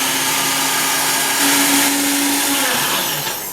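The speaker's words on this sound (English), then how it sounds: "I used the NutriBullet" A NutriBullet blender whirs loudly and steadily as it blends pancake batter, its motor pitch rising briefly in the middle, then easing off toward the end.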